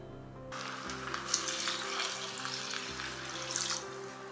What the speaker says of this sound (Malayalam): അരിയും ചിക്കനും എല്ലാം കൂടെ നല്ലതുപോലെ ഒന്ന് മിക്സ് ചെയ്യാം